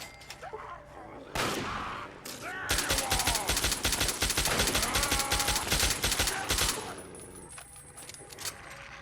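Infiltrator rifle in Fallout 3 firing a fast, steady stream of shots for several seconds, preceded by a short burst and ending abruptly, fairly close and clear with no voice over it.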